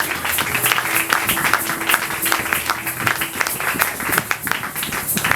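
A church congregation at a Sunday service claps continuously and fairly loudly in a dense, even wash of applause with no voices standing out.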